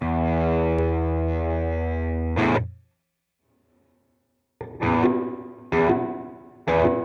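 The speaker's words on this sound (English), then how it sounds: "this third knob, this is going to control the mix of the reverb" An electric guitar through a TONEX ONE pedal plays a long sustained distorted chord that cuts off into silence, then three short, punchy distorted chord stabs ring out with a touch of reverb tail.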